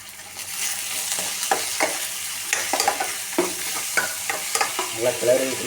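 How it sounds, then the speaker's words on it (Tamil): Onions and green chillies sizzle and fry in a pan while being stirred, with repeated scraping strokes of a spoon over a steady close crackle, and no talking. "நல்லா கிளறி விட்டுக்கிட்டே இருக்கணும்"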